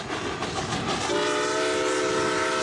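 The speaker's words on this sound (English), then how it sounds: "and even by steam train." A steam train on the Gettysburg Railroad rumbles past a Civil War battlefield, with rolling wheel noise, then a sustained horn or whistle blast that comes in partway through and holds loudly to the end.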